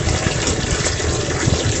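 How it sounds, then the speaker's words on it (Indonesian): A solar-powered Bilge 1100 pump feeding a drip irrigation setup pushes out a strong, steady gush of water, a loud continuous rushing splash close by with no voices. "Nah ini sekarang air mengalir ya, deras sekali ini"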